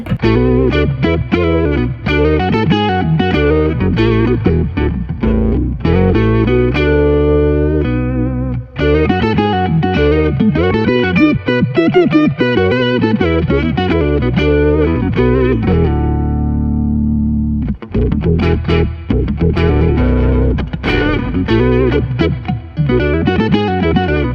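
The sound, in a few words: guitar through pedalboard with floaty moving envelope filter effects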